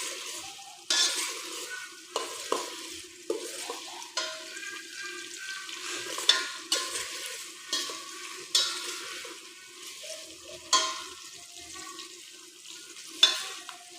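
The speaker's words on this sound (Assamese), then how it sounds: "পিঁয়াজখিনি অলপ সময় লৈ ভাজিব লাগিব।" Chopped onions sizzle in hot oil in a home kitchen pan while making shahi pulao, a close steady frying hiss broken by repeated bursts of stirring and scraping.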